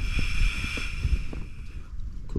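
A FireMaple Radiant portable gas camping stove burns outdoors at a windy wild camp, giving a steady broad roar with a hissing high band, overlaid by gusting wind buffeting the microphone and low thumps.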